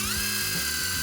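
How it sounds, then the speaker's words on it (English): A drill whines steadily up close while drilling out rivets on a Pontiac Fiero four-speed shifter assembly, a loud brief high-pitched burst with grinding undertones. "there were also some rivets that I had to drill out."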